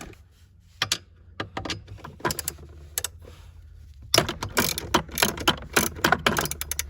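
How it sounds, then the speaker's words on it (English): Ratchet loosening the 10mm bolts that hold the dash pad in a Mazda RX-8, heard as a few scattered clicks at first, then a dense run of quick, close ratcheting clicks in the second half. "These are just 10mm bolts you can pop off."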